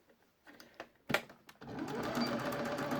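A sewing machine back-tacks stitches into the hem of a pair of jeans, with a few short taps and bursts before a loud, steady run of stitching sets in close by.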